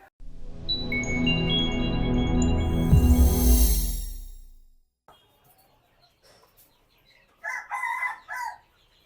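A rooster lets out one long, loud crow close by that fades away, followed by near silence and then a few short clucks and calls from chickens.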